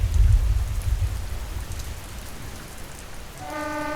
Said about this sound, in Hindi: उधर बारिश भी थमने का नाम नहीं ले रही थी।